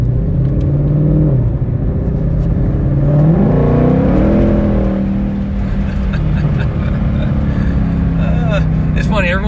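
Engine drone of a 2020 Shelby GT500 cruising and accelerating on a ride along, a steady close rumble with rising pitch sweeps as it picks up speed, with people talking over the cabin noise.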